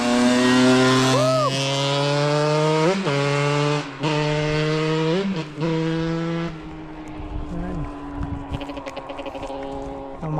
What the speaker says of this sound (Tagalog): Ayan, nakita nyo yung ating motor.